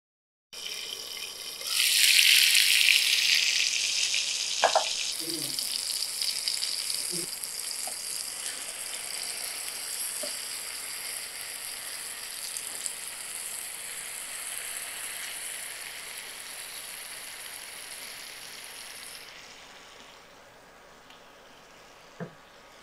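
Stuffed chicken breast cooking under a lid in a frying pan, a steady sizzle with a louder burst near the start that settles into a softer, even hiss, with a few faint clinks, before quieting toward the end.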